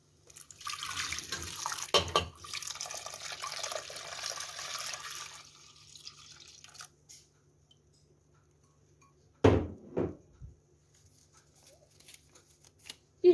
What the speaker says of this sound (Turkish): Pirinçler iyice suyunu çektikten sonra üzerine 5 su bardağı süt ekleyelim